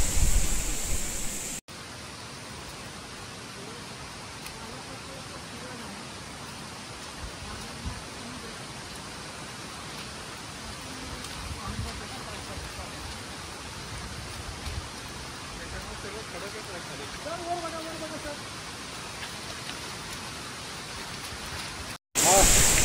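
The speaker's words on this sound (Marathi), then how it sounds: "पाऊस पण काय थांबायला मागे ना." Heavy rain pours steadily through a dense forest, a continuous broadband wash at moderate level that holds for about twenty seconds with no break.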